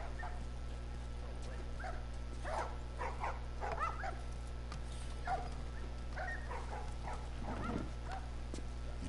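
A dog in The Last of Us video game barking and whimpering, with short yips and whines scattered over a steady low background hum, moderately close.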